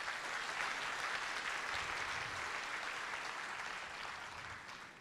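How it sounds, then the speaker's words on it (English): An audience at a business talk applauds steadily, a dense wash of clapping that runs evenly for several seconds and fades slightly at the end, quiet overall with no voices over it. "Please give yourself a big applause."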